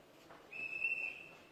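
A thin, high whistle sounds once for about half a second, faint against a low background hum.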